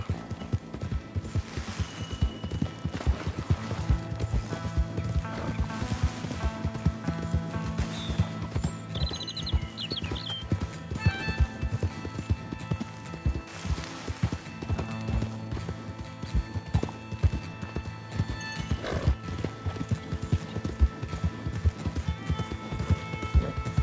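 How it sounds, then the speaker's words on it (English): Rhythmic clip-clop of horse hooves trotting steadily and close in the video game Red Dead Redemption 2, with a brief whinny partway through, against faint background music. "Mr. Mason, I'm borrowing your horse."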